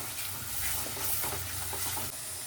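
Yogurt is stirred into hot oily masala for Afghani egg curry, producing a continuous dense sizzle and hiss with soft scraping and bubbling underneath, steady and close throughout.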